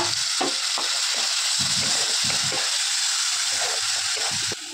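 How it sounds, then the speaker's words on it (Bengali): A spice paste is sautéed in a pan with a splash of water for stuffed pointed gourd dolma with prawn filling, giving a continuous close sizzle broken by repeated stirring scrapes of a spatula, without talk. "ভালো করে 5-10 মিনিট ধরে একটু কষিয়ে নেবো মশলাটাকে"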